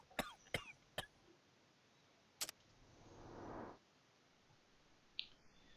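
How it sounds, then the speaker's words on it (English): A sickly character coughs in the Sherlock Holmes The Devil's Daughter video game: a few quick, dry coughs close together at the start, then a later cough over a faint, quiet background. "he's coughing like a motherfucker"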